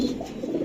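A male racing pigeon, a new adult, gives a short, close coo, a single soft low throaty call.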